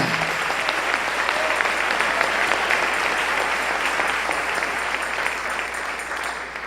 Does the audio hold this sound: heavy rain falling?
no